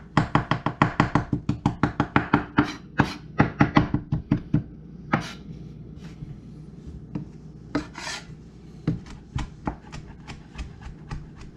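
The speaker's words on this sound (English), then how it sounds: "And I'm gonna chop the rosemary up." A knife chops fresh rosemary leaves finely on a board with rapid, evenly spaced taps, close and crisp, then slows into scattered single strikes and a brief scraping rub.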